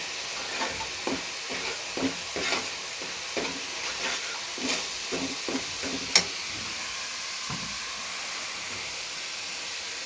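Spoon stirring cumin, hand-ground chili powder, salt and other spices in a hot frying pan for chicken korma, with a steady sizzle and hiss, a run of soft scraping strokes and one sharp clink near the middle.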